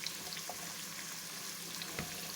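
Sweet onions frying in a pan, a steady soft sizzle with faint clinks and scrapes of stirring, close and continuous, no talking.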